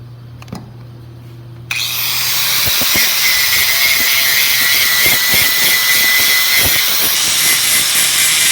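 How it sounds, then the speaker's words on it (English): Flap disc polishing a weld on metal during a profile repair: a loud, steady abrasive whir and hiss starts after a brief quiet moment and holds evenly to the end, with no voices. "now I'm just going to polish that a little bit with this flap disc"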